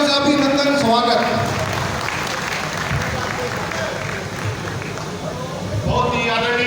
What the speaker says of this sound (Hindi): इनका जोरदार तालियों से अभिनंदन स्वागत।